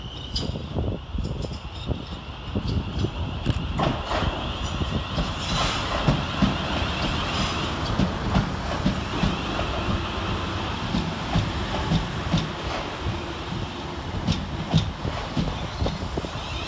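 A South Western Railway class 450 electric train, unit 450065, pulls into Basingstoke station alone, its rolling rumble and wheel clatter steady and fairly close, with rhythmic rail clicks and wind buffeting the microphone.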